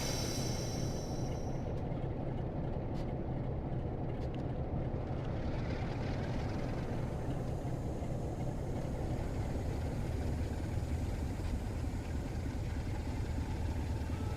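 A steady, low engine rumble of a Class 47 diesel locomotive in a train simulator game drones on without a break under power, with faint higher hiss fading early on.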